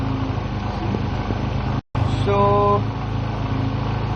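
Small engine idling steadily after a carburetor adjustment, a low, even mechanical hum that holds its pace, briefly cut out for a moment while a voice speaks a word, with a tonal whine rising over it.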